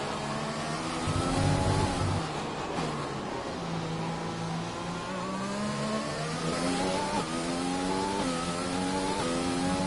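Formula 1 car engine revving in the F1 2020 racing game at Singapore, a steady high-pitched whine with rising and falling harmonic sweeps as the car accelerates and shifts, loud and continuous throughout.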